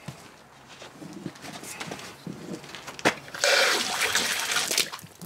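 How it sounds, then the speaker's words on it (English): Water rushes through the cooling passage of a 1990 Johnson 15 HP outboard motor in a garage shop, starting as a faint trickle and then surging into a loud, steady spray for the last couple of seconds. "Now let me flush a little water in there."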